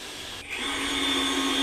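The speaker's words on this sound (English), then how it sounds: "Giving it a bit of a sand on the sander." A power sander runs on a wooden box part during a DIY build, a steady high-pitched whirring motor drone that swells louder partway through and holds close and continuous with no talk.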